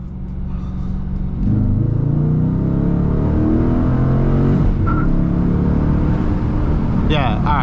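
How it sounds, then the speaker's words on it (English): A six-speed manual Dodge Challenger R/T engine pulls hard in second gear, a loud, rising V8 drone with climbing harmonics from inside the cabin, steady for several seconds before easing at the shift, with a voice briefly over it. "do a good second gear pull."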